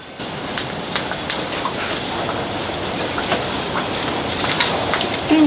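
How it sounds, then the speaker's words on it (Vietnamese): Food stir-frying in oil in a pot over a low flame, with a steady dense crackling sizzle and scattered sharp pops that run evenly throughout. "Đây gọi là xào thôi, không phải rán."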